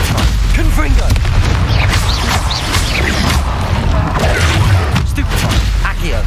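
Spell-casting blasts in Hogwarts Legacy: a dense, loud barrage of booming impacts, whooshes and magical crackles firing in rapid succession, with a voice shouting incantations over the combat noise.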